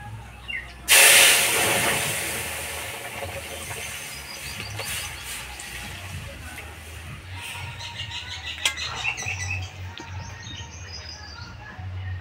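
Dal poured into hot oil tempered with dry red chilli and mustard seeds bursts into a loud sudden sizzle, then settles into a steady hiss with faint crackles under occasional speech.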